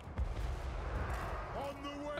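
Cannons fire in a Total War Warhammer battle, a heavy boom opening the stretch followed by rumbling battle noise, with faint game tones near the end.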